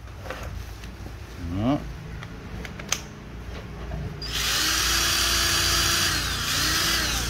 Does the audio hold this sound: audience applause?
no